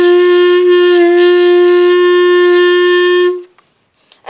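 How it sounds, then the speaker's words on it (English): A clarinet sustains a clear, steady open G, played with no fingers on the keys, for about three and a half seconds before stopping cleanly, followed by brief faint noise. "the first note we're going to learn to play is G, and that is where you have no fingers on the clarinet"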